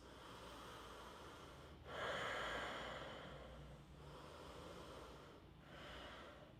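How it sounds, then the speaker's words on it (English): Slow, deep breaths during an all-levels full-body yoga flow, a strong exhale swelling near the middle and softer inhales and exhales around it, close and quiet with no talking. "Let's take 2 more deep breaths."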